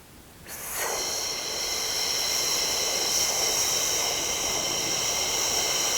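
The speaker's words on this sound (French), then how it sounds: "on inspire profondément" One long, deep inhalation through the nose during a relaxation breathing exercise. The breath is loud and close, a steady airy rush held for about five seconds after a brief quiet start.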